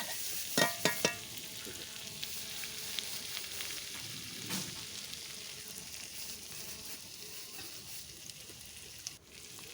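Onions fry until reddish-brown in a pan for a chana dal with bottle gourd and milk, a soft continuous sizzle with a few sharp stirring knocks near the start and occasional light scrapes later.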